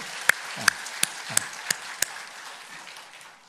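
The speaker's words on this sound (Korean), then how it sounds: "우리 한번 감사의 박수 올려드릴까요?" Church congregation at a Sunday worship service gives thanks to the choir with a handful of sharp, separate claps spaced about a third of a second apart, then a soft lingering room hush.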